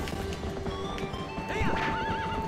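A horse in The Legend of Zelda: Twilight Princess HD gallops with rapid clip-clop hoofbeats, then gives a loud whinny near the end, over game music and ambience.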